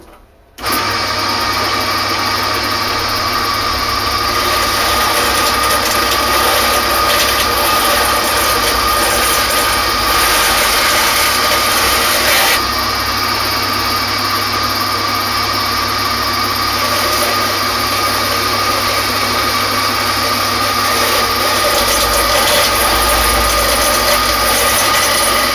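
Angle grinder running steadily while making a knife, a continuous loud high-pitched whine with a faint hum beneath, starting abruptly and holding constant for the whole stretch with no talking.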